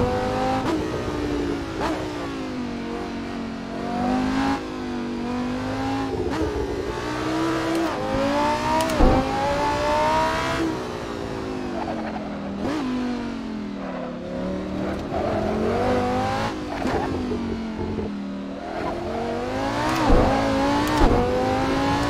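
A Lamborghini Gallardo races up a hillclimb rallysprint course at Hondarribia, its engine revving hard and rising and falling through repeated gear changes, loud and close throughout with brief tyre squeals.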